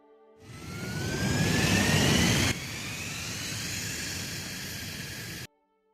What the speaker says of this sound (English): What does engine loop start sound like? This is when the vehicle starts up.